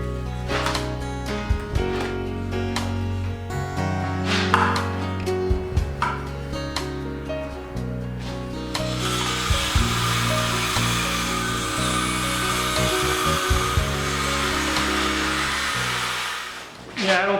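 A MAXIMUM 20V brushless cordless saw cuts through wood, a loud whining motor with rough grinding under load, the pitch shifting across the cut, and a voice speaks briefly over it.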